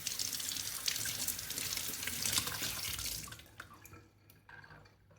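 Tap water runs in a strong, close stream over cooked beetroot being peeled by hand, then cuts off partway through, leaving faint drips and small handling noises.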